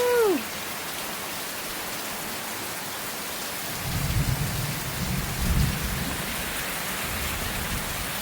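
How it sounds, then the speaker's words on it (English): A thunderstorm with steady heavy rain hissing on surfaces and low rumbles of thunder rolling in twice, near and fairly loud; a brief voice sound opens the recording. "I thought I'd show you what one of these thunderstorms looks like."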